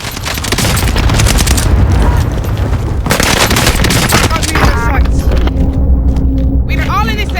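Rapid gunfire and booms from the Call of Duty Warzone video game play loud and nearly nonstop, with bursts of automatic fire and game voices speaking over the din.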